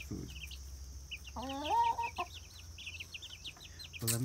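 Small chickens cluck and peep while eating chick food, a soft close chorus of short chirps with one longer warbling call in the middle, quiet and without talk.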